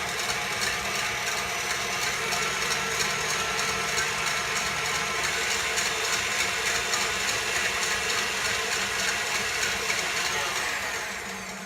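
A KitchenAid stand mixer whisks pancake batter for almond flour blueberry pancakes, a loud, constant mechanical whir with a rattling gear texture that runs unbroken throughout and tapers slightly at the end.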